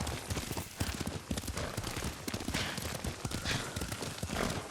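Horse hooves clip-clop in a steady galloping rhythm over dirt in the feudal Japan game Ghost of Tsushima, fairly close and continuous with no talk.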